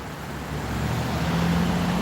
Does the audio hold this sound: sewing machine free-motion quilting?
no